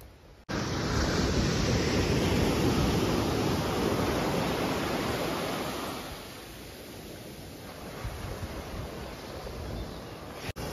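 Sea waves wash onto a beach at Devbag in a loud, continuous surf roar that eases after about six seconds, with no one talking.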